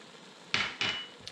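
A pot of Senegalese thieboudienne, fish and rice with dried ginger and thyme, gets a gentle stir: two distinct scraping clinks of a utensil against the pot, then a faint third tap, close and alone.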